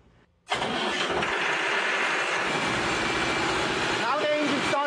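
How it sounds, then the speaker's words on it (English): A diesel engine running on biomass gas starts abruptly after a quiet moment, then settles into a loud steady running drone close by that continues to the end. "Now the engine started."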